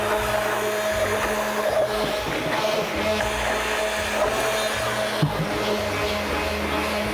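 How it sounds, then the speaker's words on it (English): A blender whirs steadily, mixing castor, shea and coconut oils with powders for cold process patchouli mud soap; a loud, close, continuous motor drone with slight pitch shifts and brief pauses. "Now we're gonna start mixing"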